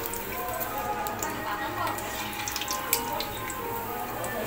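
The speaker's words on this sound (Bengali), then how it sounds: "দেখতেই পাচ্ছ পাঁপড়টা আমি কীভাবে ভাজছি" Sago papad frying in hot oil, giving a steady, dense crackling sizzle that holds at an even level throughout, with a few sharper pops near the end and a faint muffled voice in places.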